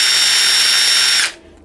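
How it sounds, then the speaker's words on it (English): Power drill boring a hole through a beeswax candle, a loud steady high-pitched whine for over a second that cuts off abruptly. "I'll drill a hole right in the middle of this candle wax here."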